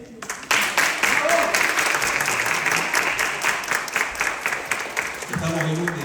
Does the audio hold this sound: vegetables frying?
no